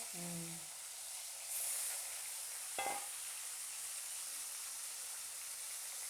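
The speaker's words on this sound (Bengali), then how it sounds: "আবার আমি বাকি মাছগুলো ভেজে নেব। সরে যা, গায়ে ছিটবে। ফুলে যাচ্ছে।" Bhola fish frying in hot oil in a home kitchen, a steady broadband sizzle with faint spattering throughout, a brief louder crackle near the middle.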